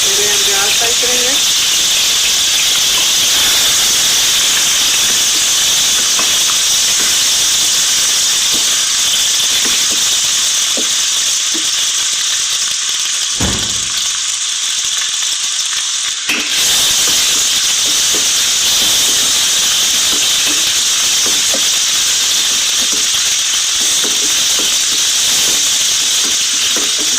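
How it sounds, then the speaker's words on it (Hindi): Onions frying in hot oil for a chicken and potato dish, a loud steady sizzle and hiss filling the whole stretch, briefly dipping once midway before resuming, with faint voice traces underneath. "प्याज फ्राई करेंगे"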